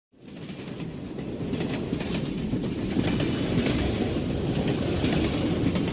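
A train rolls steadily along the rails with a constant rumbling roar and faint rhythmic clatter of wheels, close and continuous throughout.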